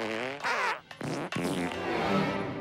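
Cartoon fart sound effects from an animated kids' comedy, a loud, wet, sputtering run of several blasts with brief gaps between them, up close and without talk.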